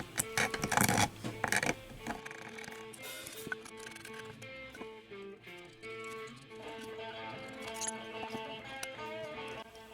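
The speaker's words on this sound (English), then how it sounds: "Start using the X-Acto to get some of the little crud off here." An X-Acto razor knife scrapes crud off CNC-carved guitar headstock hangers, a close rasping burst at first followed by lighter, intermittent scratching over a quiet background.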